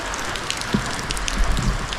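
Steady rain falling outdoors during a rainy-season cooking session, a dense continuous hiss with a few soft drops and knocks, fairly loud and alone with no talk.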